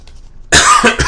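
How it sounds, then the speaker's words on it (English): One sharp cough bursts out after a quiet moment, followed by a couple of shorter rough coughs, loud and close to the microphone. "I just have a summer cough."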